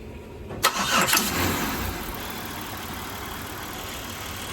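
A car engine is jump-started with a green jumper pack: a sharp crank burst, then the engine catches and settles into a steady, even idle that runs on alone.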